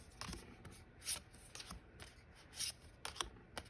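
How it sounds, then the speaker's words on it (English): Tarot cards are handled and flipped through one by one, giving soft, quick papery riffles and snaps in a quiet room, close and faint. "I'm going to go through all the cards here so you guys can see"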